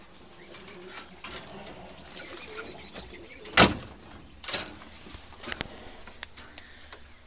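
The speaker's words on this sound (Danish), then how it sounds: "Og så har jeg jo fået duer. Og duerne er fritflyvende nu." Free-flying pigeons in a garden give soft, low coos at a distance, along with scattered taps and one sharp knock or flutter midway, in an otherwise quiet outdoor setting.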